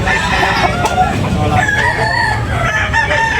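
Rooster crowing at a busy poultry sale in Tabunok, Talisay, Cebu, loud and close, with clucking fowl and a crowd murmuring and talking underneath throughout.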